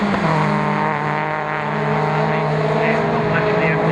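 MG race cars, a red MGF chasing an MGZR at Croft circuit, roar past with a loud sustained engine howl that shifts pitch as they accelerate, under steady trackside commentary.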